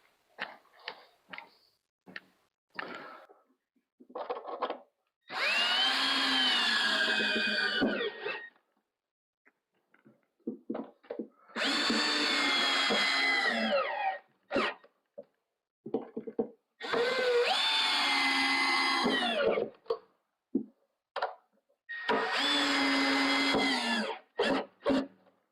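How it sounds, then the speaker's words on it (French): A power screwdriver drives screws into a ski mount on an electric fatbike. It whirs loudly in four bursts of several seconds each, and softer clicks and handling noises fill the gaps. "je vais visser mes 6 vis intérieures qui tiennent"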